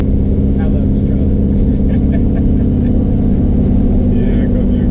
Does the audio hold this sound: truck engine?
yes